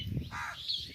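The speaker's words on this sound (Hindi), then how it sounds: "ये कौवा जो बोल रहा है काएं काएं" A crow calls once, a brief harsh caw that rises and thins out, heard outdoors at moderate distance with low background noise and no talk.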